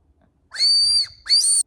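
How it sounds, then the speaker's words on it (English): Two shrill toy whistle blows, close and loud, the first held about half a second, the second shorter after a brief break. "You put your mouth here and then you blow it and then you start whistling."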